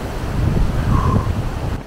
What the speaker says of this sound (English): Oh, really windy.